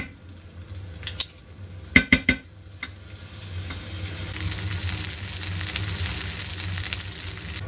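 Pheasant breast frying in a pan with butter, with a few sharp clinks of a utensil against the pan, then a steady sizzle that swells and holds.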